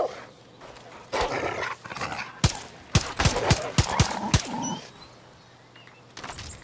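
A dog barking in the video game Far Cry New Dawn, a series of sharp, loud barks in quick bursts mixed with sudden percussive in-game bangs, close and without voices.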